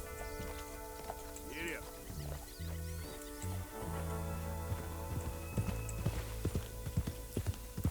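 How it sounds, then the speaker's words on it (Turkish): A horse's hooves clip-clop steadily while riding in the video game Red Dead Redemption 2, a rhythmic trot heard clearly under background game music, with a voice talking over it. "atımızı Oraya doğru sürelim bakalım"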